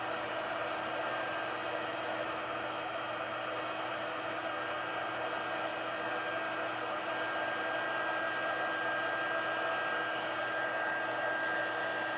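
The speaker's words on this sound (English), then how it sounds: "Gonna just get all this embossing powder melted real quick." A heat tool blows with a steady, loud whooshing roar, unbroken throughout, while melting embossing powder on a handmade Halloween card.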